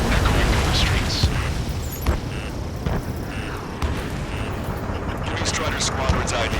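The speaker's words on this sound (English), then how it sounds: "Gunfire, jets echoing through the streets." Gunfire and jet aircraft over a city under martial law in Ace Combat 7, a dense, continuous roar of engines and rumbling blasts with sharper bangs breaking through, loud and unbroken throughout.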